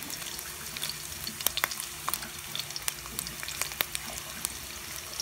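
Reused ginger frying in a pot, a soft steady sizzle dotted with sharp irregular pops and crackles, close but fairly faint, with no talk.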